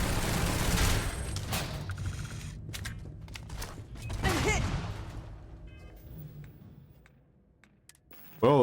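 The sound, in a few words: gunfire in video game Starfield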